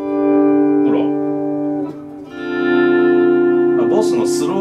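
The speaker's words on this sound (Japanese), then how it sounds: "オートボリュームエコー、これ面白いよ" A Japanese-made Mosrite Ventures model electric guitar with a maple body and EMG pickups plays loud sustained notes through an auto volume echo effect, swelling in twice with echoing repeats.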